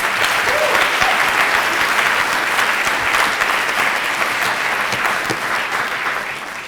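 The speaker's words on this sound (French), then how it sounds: "au député chef de l'opposition, Pasqualini, sous vos applaudissements, bien entendu." Loud, dense audience applause fills a French national debating final, sustained steadily for several seconds and fading slightly at the end.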